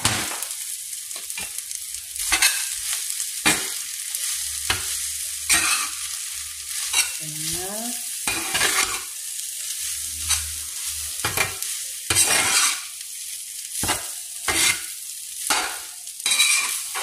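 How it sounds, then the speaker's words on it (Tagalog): Metal spatula scraping and clanking against a pan while fried rice seasoned with a little vinegar is stirred, with repeated sharp scrapes in an irregular rhythm over a faint background sizzle; close and fairly loud. "Ang ingay naman itong panghalo ko. Masakit sa tenga."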